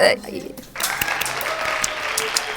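An audience at a student theatre staging of the operetta Arşın Mal Alan breaks into applause after a brief pause, a dense clatter of many hands that holds steady, with a voice audible at the start.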